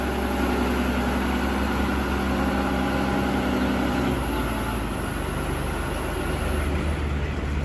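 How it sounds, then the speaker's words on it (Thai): The engine of a TCM FD100 10-ton automatic forklift runs at a steady, loud idle, a dense mechanical drone whose low rumble shifts slightly partway through. "วันนี้มาแนะนำรถโฟกลิฟนะคะยก 10 ตันคันนี้จะเป็น PCM นะคะ FD ร้อยเดี๋ยวรับชมสาธิตกันเลยค่ะ"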